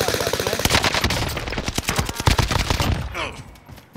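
Rapid bursts of automatic gunfire in Call of Duty: Modern Warfare, loud and close, firing in dense repeated volleys for several seconds before tapering off.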